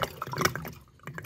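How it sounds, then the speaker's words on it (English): Water gurgles inside a full boiler expansion vessel during gas engineer servicing work, heard up close as short, irregular bubbling pulses that pause briefly before resuming. "I don't know if you can hear this gurgling"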